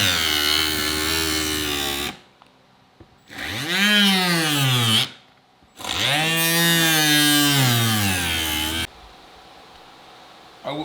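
A Milwaukee power tool cuts siding down into plywood in three loud bursts, its motor whining and bogging as the pitch sags and stalls, with short quiet gaps between cuts and no talk.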